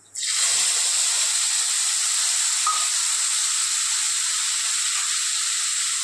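Spice paste sizzles loudly and continuously in hot tempering oil flavored with cumin and asafoetida, a steady close hiss with no talk over it.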